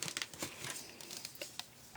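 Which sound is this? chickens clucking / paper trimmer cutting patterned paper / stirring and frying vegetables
paper trimmer cutting patterned paper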